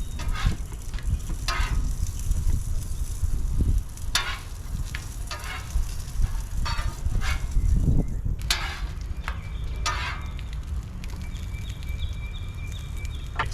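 Corn tortillas sizzle on a gas grill, a close, steady crackle that runs without a break, broken by occasional sharp taps and scrapes as they are turned.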